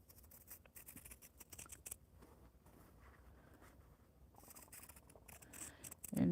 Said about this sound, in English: take my scissors and trim